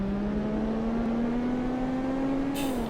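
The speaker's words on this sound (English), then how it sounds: "I wonder if I'll hit the rev limiter." Car engine in BeamNG.Drive with a 5-speed gearbox, held at a steady high drone that climbs slowly in pitch as revs build toward the limiter, then drops slightly with a brief hiss at the end.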